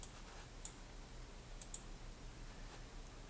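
A computer mouse gives a few faint, sharp clicks spaced irregularly over a quiet background hiss, alone with no speech.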